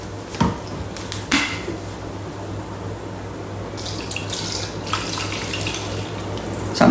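Water poured into a Thermomix bowl for sweet chilli sauce, a steady splashing flow with a few sharp knocks and louder gushes toward the end.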